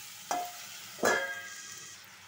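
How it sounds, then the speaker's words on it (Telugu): Chopped ivy gourd curry in a pan, stirred and scraped twice, each stroke a sharp scrape followed by a ringing metallic tail, over a faint steady sizzle. "ఇప్పుడు మనం ఇది మొత్తం కలిపేసుకుందాం"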